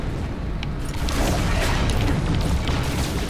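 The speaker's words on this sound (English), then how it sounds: "One missile shot took them out." A missile explosion destroying an enemy ship in the space game No Man's Sky: a dense, booming roar of blast and debris that holds steady and loud for the whole few seconds, with no talking.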